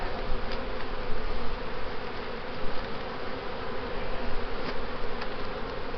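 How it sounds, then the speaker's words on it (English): A hive of honey bees drones in a thick, unbroken buzz as the colony is smoked during a frame inspection, close and even throughout with no talking. "Smoking the bees."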